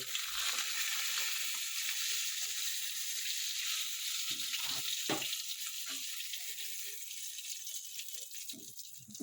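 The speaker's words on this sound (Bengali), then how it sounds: "আমার মাছ ভাজা হয়ে গেছে, এবার মাছটা আমি তুলে নেব।" Pieces of bhola fish frying in a pan of oil, a loud continuous hissing sizzle up close with a few brief clinks and stirs, no talking.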